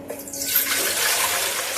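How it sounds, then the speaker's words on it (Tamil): Water pours steadily into a metal idli steamer pot, a continuous splashing hiss building from a quiet start and holding near and clear with no talking. "அதை கொஞ்சம் தண்ணி ஊற்றிக்கலாம்."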